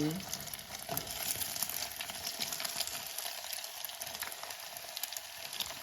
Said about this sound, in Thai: พอน้ำมันร้อนนะคะ เราก็จะเทไข่ลงไป